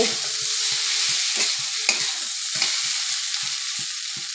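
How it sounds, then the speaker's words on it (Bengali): Onion and chili frying in a pan, a steady hiss of sizzling oil with regular soft scraping strokes of a spatula stirring, close and continuous, no voices. "তারপরেও ভালো করে ভাজতে হবে।"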